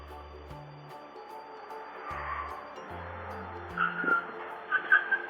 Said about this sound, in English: When you're turning, at least slow down a bit. Anyway, you hit the car.